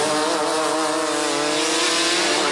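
Rotax Heavy class racing karts roar past on a New Zealand racetrack during a CIK Trophy final, a continuous loud, buzzing two-stroke engine drone with steady revving and no talk.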